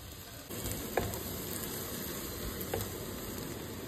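Chopped onion, about a cup, sizzling in roughly half a cup of hot mustard oil in a frying pan for beef curry, a steady close crackle with a couple of sharper pops and no talking.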